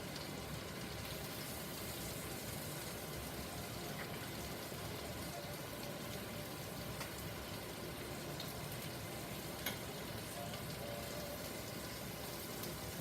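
Breaded chicken cutlets for chicken parmesan sizzle and crackle steadily in a hot pan, a dense, even frying hiss held close and constant throughout.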